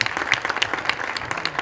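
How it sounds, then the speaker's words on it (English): A room full of people at an awards ceremony claps their hands in a lively, uneven burst of applause, close and continuous with individual claps standing out. "just clap your hands for the next 5 more minutes,"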